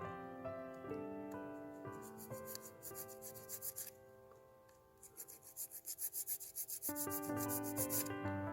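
An artificial nail tip is filed and shaped with quick rhythmic rasping strokes that grow louder midway, set against steady background music.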